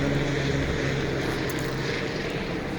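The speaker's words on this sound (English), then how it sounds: "that's the same helicopter that just flew over me about like 10 minutes ago" A low-flying helicopter passes overhead, its engine and rotor drone holding steady and fairly loud throughout, with no talking.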